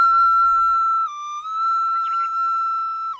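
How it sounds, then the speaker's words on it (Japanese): A breathy wooden Japanese flute holds a long high note outdoors on a mountaintop after rain, stepping briefly lower before returning, with a faint bird chirp near the end. "風に合わせて笛に息を吹き込んでみる"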